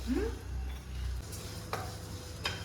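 Ingredients dry-roast in a pan without oil, giving a low, steady rustle with a few light scraping strokes and taps as they are stirred.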